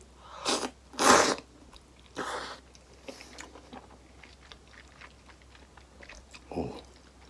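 Someone bites into Odawara tantan cup noodles, thickened with an ankake-style starch sauce, giving several loud, close bites and slurps followed by quieter chewing with brief pauses.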